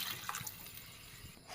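Water pours into a cooking pot while carrot rice is prepared with grated carrot, chilli, turmeric and coriander powders and herbs. It is a soft, faint, steady splash with no talk.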